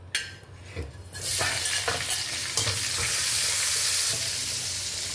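Garlic frying in a pan of leftover oil from earlier frying, with a loud, steady sizzle that jumps in after a second of quieter clinking and then holds evenly to the end.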